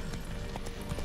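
Hooves clip-clopping from a horse in The Witcher 3, a quick rhythmic patter of hoofbeats at moderate distance, fairly quiet over a soft background.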